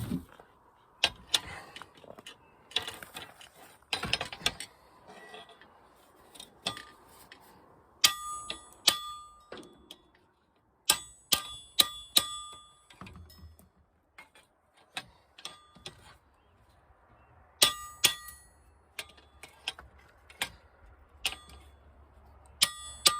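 Steel bolts being punched out of a hay mower wobble box, a series of sharp metallic hammer strikes in irregular bursts, some ringing brightly, close and fairly quiet, with no talk.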